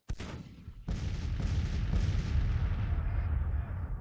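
Artillery fire in the strategy game Grand Tactician: The Civil War: a sharp cannon boom, then a dense, sustained rumble of further shots and distant booms, loud and with no talking.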